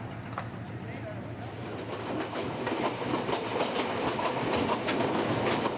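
Train wagons clatter on the rails across the high Peruvian altiplano at around 4300 m, a steady rhythmic clickety-clack with dense rumble that grows slightly louder, with faint chirps above.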